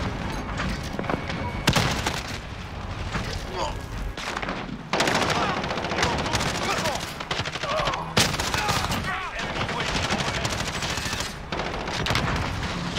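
Dense, rapid SMG bursts fill a Modern Warfare match, loud and close, coming in several long strings with brief gaps between them.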